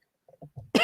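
A single sharp cough lands close into a microphone at the end, loud and harsh, preceded by a few faint throat sounds and breaths.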